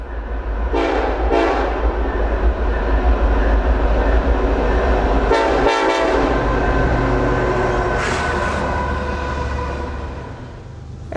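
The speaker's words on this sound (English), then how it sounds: "a manifest freight slowly made its way up the grade" A manifest freight train slowly climbs a grade on the Pittsburgh Line near Cassandra, its heavy rumble loud and steady throughout while several horn blasts sound, with a longer burst midway and another near the end.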